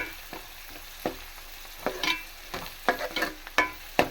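Onions soften and brown in a pan, giving off a low, steady sizzle close by, broken by repeated scraping strokes of a spoon stirring them at an uneven rhythm.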